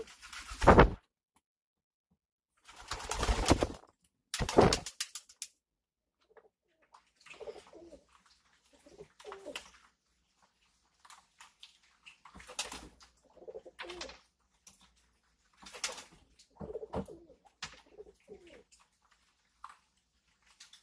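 A pigeon chattering indoors in a loft, with soft, close coos and murmuring calls in short bursts separated by quiet gaps, plus a few louder rustles or flaps near the start.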